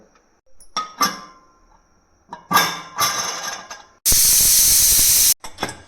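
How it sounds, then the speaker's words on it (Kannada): A pressure cooker on the stove while bisibele bath cooks gives a loud, steady hiss of steam for over a second, alone, after a few scattered metallic clinks and rattles nearby. "ಈಗ 3 ವಿಷಲ್ ಕೂಗಿ ಕುಕ್ಕರ್ ತಣ್ಣಗಾಗಿದೆ."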